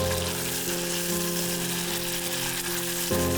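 A spoonful of fermented chili paste hits hot oil with ginger and garlic in a stew pot, giving a loud, steady, close sizzle that runs unbroken, with a small change in tone near the end.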